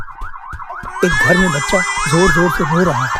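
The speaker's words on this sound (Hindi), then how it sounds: "आज फिर वही चेतावनी सायरन की आवाज गूंज रही है।" A warning siren wails loudly in a village, rising and falling in steady cycles. A narrator's voice speaks over it throughout.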